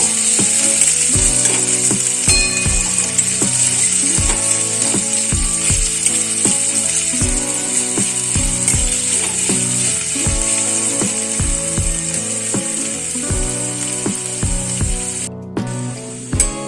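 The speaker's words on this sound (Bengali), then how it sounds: "এটা একটু ভালো করে লাল করে ভেজে নিতে হবে" Onions sizzle steadily in hot oil throughout, frying until browned, a continuous loud crackle with light clicks and tonal background music layered over it.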